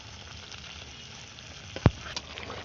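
Spinach frying in a pan with ginger and salt, a soft continuous sizzle close by, broken by one sharp knock from a utensil.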